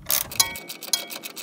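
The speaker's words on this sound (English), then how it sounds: "we're going to take our trusty torque wrench" A torque wrench tightens a sway bar bushing bolt to 14 foot-pounds, giving a rapid run of sharp, close metallic clicks and ratcheting ticks over about a second and a half, with no talk.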